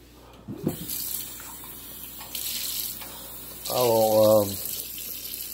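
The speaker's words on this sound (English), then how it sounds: "rinse that out so it's not tainted with anything" Tap water runs into a sink as a beer glass is rinsed out, a steady close splash with brief handling clatter, while a voice speaks intermittently over it and a short tonal sound rises near the end.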